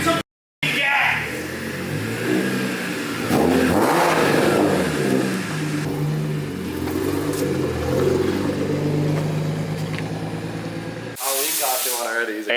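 Honda Civic EK engine revved up in a garage, a loud rising and falling rev held for several seconds after a short gap, with a hissing burst and voices near the end.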